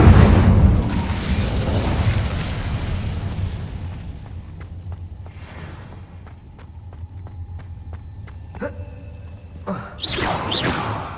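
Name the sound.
Incendio fire spell cast in Hogwarts video game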